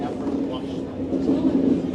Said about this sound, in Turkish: Tren gelmek üzere, 3-5 dakika kaldı.